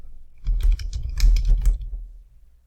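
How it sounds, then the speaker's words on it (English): Keys clatter on a computer keyboard in a short, close burst of quick irregular taps, with no voices over it. "so I'm just going to type that in."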